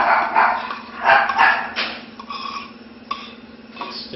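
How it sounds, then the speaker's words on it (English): A dog barks at someone at the door in a home, giving several sharp barks and yips in irregular bursts, fairly close, with no talking over them. "anybody comes through the door and they got to bark."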